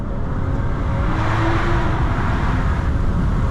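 BMW 640i Gran Coupé accelerating, a steady loud engine drone with road and wind roar from inside the car, no talking.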